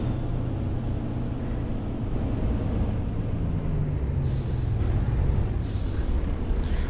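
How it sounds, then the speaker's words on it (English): Truck engine running with the default engine sound in American Truck Simulator, a steady low diesel rumble and drone at constant volume, with a slight shift in pitch midway as the truck drives on. "right now the truck is using default engine sounds"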